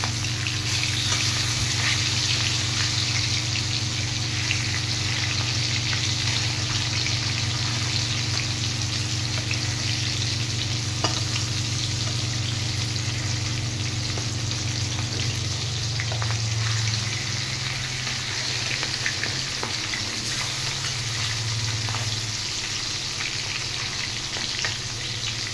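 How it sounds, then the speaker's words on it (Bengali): Hilsa fish frying in a pan, a steady loud sizzle of hot oil that runs continuously and close up, with brief shifts as the soft fish is turned. "ইলিশ মাছ খুব বেশি ভাজা করলে ভালো লাগে না খেতে"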